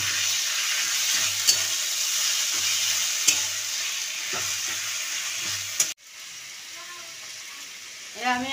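A fish head and water lily stems sizzle in hot oil, a constant crackling hiss with rhythmic stirring thumps, close up; the sizzle cuts abruptly near the end and a voice begins speaking.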